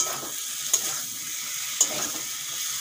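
Fried potatoes being stirred into cooked spices in a hot pan give off a steady low sizzle, with a few sharp clicks of a utensil against the pan at intervals.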